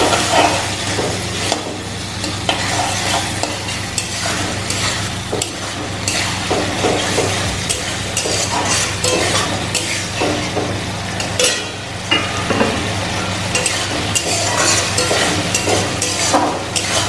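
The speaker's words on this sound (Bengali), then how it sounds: "বেগুন দিয়ে আর একটুখানি জল দিয়ে আবার কষাবো" Eggplant and fish curry sautéing in a pan with a splash of water. A loud, dense sizzle runs throughout, with frequent scraping and stirring knocks from a utensil and no voices.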